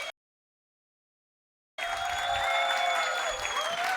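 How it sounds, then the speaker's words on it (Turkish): A stand-up comedy crowd breaks into steady applause and cheering after a brief silence, dense and sustained, with a high whistling tone running through it. "Daha büyük bir alkışla başlayalım."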